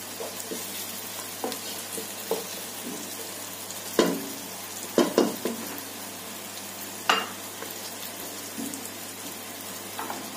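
Garlic and onion frying in a pan for Alexandrian-style liver, with a low, steady sizzle and a few sharp clatters of stirring, no voices.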